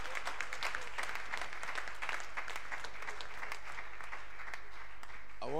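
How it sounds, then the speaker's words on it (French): A church congregation claps hands together during worship, dense continuous applause-like clapping from many people that stays loud and steady throughout, with no distinct speech over it. "Come on, clap your hand"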